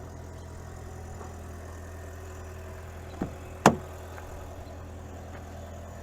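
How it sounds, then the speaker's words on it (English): Engine of a 2023 Ford Maverick Hybrid XL cutting back on to idle and charge the battery after several minutes off: a steady low idle hum with a couple of sharp knocks as it restarts, no talk. "And the engine's been off for several minutes. It just now cut back on. So it's going to charge that battery while it's idling."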